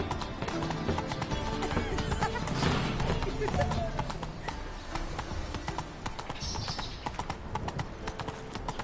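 Roach, a horse in The Witcher 3, gallops with fast, steady clip-clop hoofbeats running continuously throughout, while a voice talks over the hooves.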